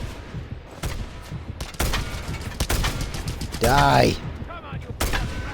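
Gunfire rattles in the video game Chaos and Crews as repeated sharp shots in irregular bursts, with a short shout over the action and a brief warbling game sound in the middle.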